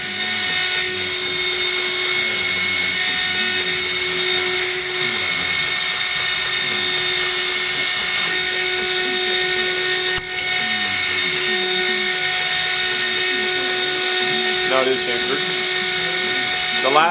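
A blade is ground on a steady, loud grinder as the bevels of a pocket skinner knife are shaped, with a continuous high whine running unbroken throughout and only a brief knock partway through.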